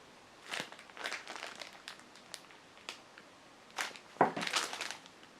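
Clear plastic bag packaging around a Pan Ducale panettone crinkles and crackles in bursts as it is handled close up, with a louder rustling cluster near the end.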